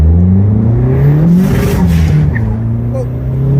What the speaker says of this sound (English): So I'll even do first gear, but watch how quickly I shift it.